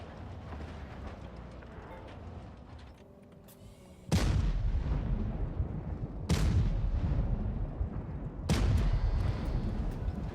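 Gunfire and booming explosions from a competitive online shooter match, with a low rumbling din that swells into three heavy blasts.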